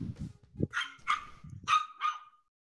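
Several dogs bark in short, sharp bursts, a handful of loud yaps spread across a couple of seconds, with lower muffled noise between them.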